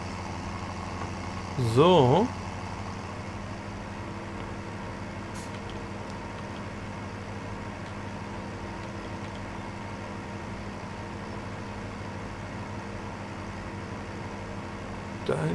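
A tractor idles in the farming video game Landwirtschafts-Simulator 17, a steady low engine drone running throughout, with a brief louder burst near the start and a short spoken word.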